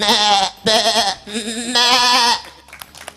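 A human voice imitates a goat's bleat in several long, wavering cries separated by short pauses, loud and close, ending with softer breathy sounds.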